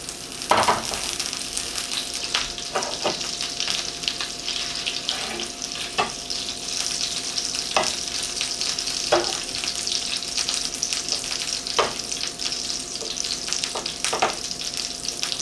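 Onions and garlic sizzling in buttery oil in a pan, a continuous close crackling fry with scattered louder pops and stirring clicks throughout, no talking.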